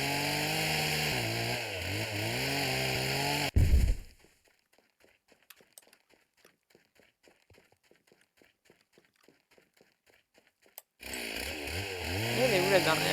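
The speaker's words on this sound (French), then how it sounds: "Allez, on va manier la tronçonneuse." Chainsaw in a farming video game, a loud buzzing engine that runs, cuts out into near silence with faint clicks for several seconds, then starts up again, heard alone.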